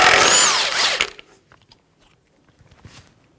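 A power tool spins off the 32 mm axle nut on a 2007–2017 Jeep Patriot 2.4L, a loud whirring burst for about a second, followed by faint metallic clinks and rattles.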